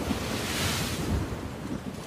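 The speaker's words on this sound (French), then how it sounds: "une terrible tempête souleva de telles vagues que la mer sembla se vider" Waves on a stormy sea roar in a steady, loud wash with wind buffeting, and no talking over them.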